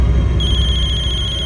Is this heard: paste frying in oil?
no